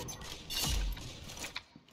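Brief mechanical clicks and a metallic clack of a gun being reloaded in the video game Pixel Gun, with a short rattle near the end.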